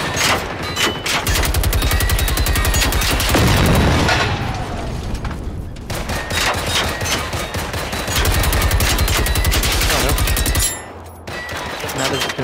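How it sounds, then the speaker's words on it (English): Hacked walkers firing on other enemies in a video game: loud, dense, continuous bursts of automatic gunfire that keep rattling with a few short breaks, close and harsh throughout. "It confuses them and they start shooting other ones."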